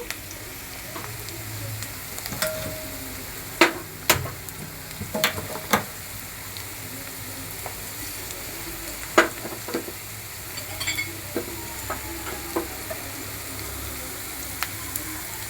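A little oil heats in a pan on a stove while puffed rice uggani is cooked, giving a constant close sizzle broken by sharp pops and crackles, with no talking.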